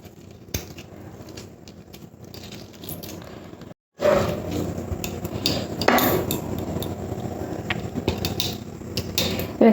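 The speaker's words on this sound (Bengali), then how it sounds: "চিকেনটাকে খুব ভালো করে চিকেনের গায়ে মশলাগুলো মাখিয়ে নেব" Marinated chicken is worked by hand with pepper powder, Kashmiri chilli powder, salt and lemon juice, making close, continuous wet squishing and slapping that grows louder after a short pause.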